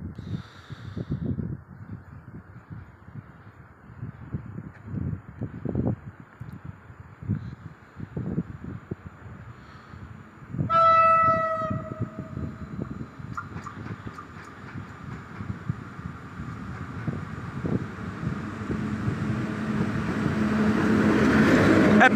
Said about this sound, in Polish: Wjeżdża pociąg Intercity Chełmoński relacji Kraków Główny